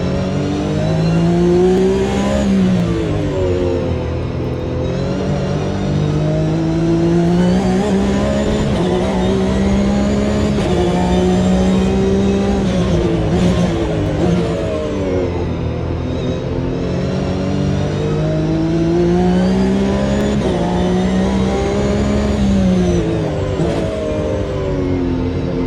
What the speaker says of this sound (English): The engine did not turn off on the second place car. He is continuing on and able to race.